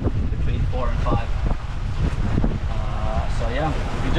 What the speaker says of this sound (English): we've got about 14 knots of wind